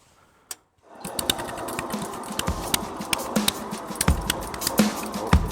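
A restored 1963 Bolens Husky 600 lawn tractor engine starts up and runs with a rapid, uneven chugging putter, fairly close and steady, with sharper clattering knocks as the machine moves off.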